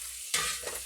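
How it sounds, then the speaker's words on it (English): A pan of onions and meat cooking in a little oil hisses steadily up close, with a sharp stirring scrape partway through and a softer one after. "onions and that meat in there cooking"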